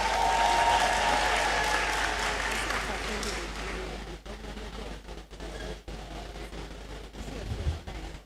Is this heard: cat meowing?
no